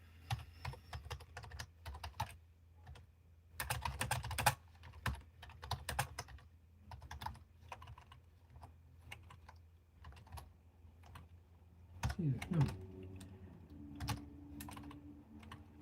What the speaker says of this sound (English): I can't type for crap today.